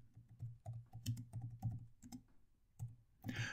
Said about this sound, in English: Now, I'm typing using an Apple keyboard.